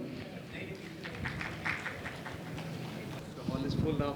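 An audience claps to welcome dignitaries onto a stage at a presentation event, a moderate, fairly distant patter of applause that continues steadily and swells slightly near the end.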